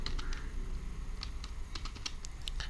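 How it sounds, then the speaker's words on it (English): A computer keyboard is tapped in quick, irregular keystrokes while msconfig is typed into the Windows Run box, with a steady soft background noise and no speech. "In this menu you need to type msconfig"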